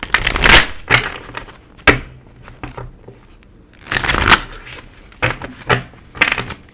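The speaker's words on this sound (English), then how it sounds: "Let me keep shuffling. Cards ain't ready yet." Tarot cards being shuffled close up, several crisp riffling bursts with short quiet gaps between them, loud and papery.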